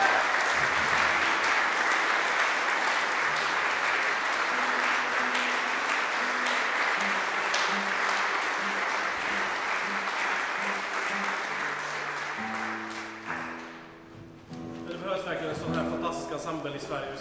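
A concert audience applauds warmly for an ensemble after a performance, dense sustained clapping with faint held tones beneath, fading out near the end as musical notes begin.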